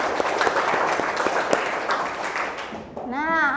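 Classroom applause from children during an Indonesian language lesson, a few seconds of brisk clapping that fades as a teacher's voice starts speaking at the end.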